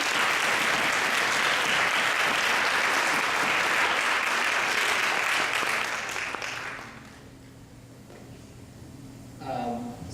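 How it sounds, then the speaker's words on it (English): A conference audience at a student STEM event applauds its speakers, with dense, sustained clapping from a large crowd that fades out after several seconds, then a speaker's voice resumes. "I think we need one more round of applause for our speakers."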